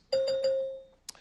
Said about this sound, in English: a bell will sound like this.